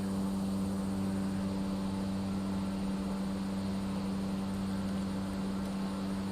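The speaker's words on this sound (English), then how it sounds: "So this is the C208 Caravan, the Asobo one." Steady drone of a Cessna C208 Caravan turboprop engine in a flight simulator, a constant loud hum with a strong low tone and broad airy noise, unbroken throughout with no talking.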